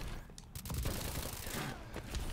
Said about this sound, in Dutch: Lekker met mijn ASM. Mijn favoriete wapen op Call of Duty Advanced Warfare.